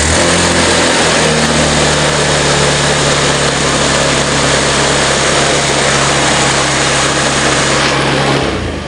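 Honda Scoopy scooter engine idling close up during a regulator and charging check, a loud, steady buzzing drone that stays constant before dropping off at the very end.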